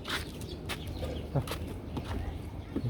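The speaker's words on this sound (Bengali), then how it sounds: "মুরগি আবার" Chickens clucking near backyard fish tanks, a few short, fairly faint clucks over a steady outdoor background.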